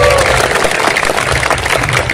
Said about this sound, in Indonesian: maka tepuk tangan untuk Pak Bupati